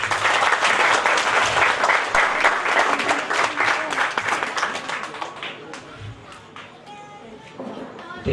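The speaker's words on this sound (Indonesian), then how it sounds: "Sekali lagi tepuk tangan buat beliau." Studio audience at an Islamic religious program applauds loudly and steadily for several seconds, then the clapping thins and fades while a voice speaks over the tail.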